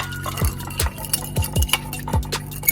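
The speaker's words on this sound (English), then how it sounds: "take your favorite bourbon or whiskey, add it to that mixture, and we're going to stir that up" Bourbon being stirred into a sauce mixture, heard as a spoon clinking and scraping against the pot in a loose rhythm of four or five sharp taps, close and moderately loud, with no voices.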